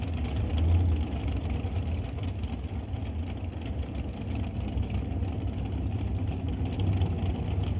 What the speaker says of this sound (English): 598 cubic inch big block Chevy nitrous combination